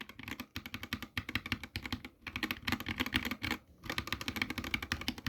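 Rapid, close keystrokes clatter on a budget mechanical keyboard with linear switches, a dense run of crisp clicks with a couple of brief pauses, no voices.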